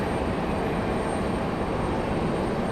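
An Icelandair airliner at Raleigh-Durham airport gives off a steady, broad engine roar that holds evenly loud throughout with no breaks.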